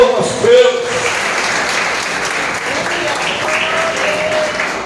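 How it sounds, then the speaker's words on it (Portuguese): Church congregation clapping in praise during a Portuguese-language worship service, a loud continuous wash of applause with voices and cheers mixed in. "Dê uma linda salva de palmas ao Senhor nosso Deus."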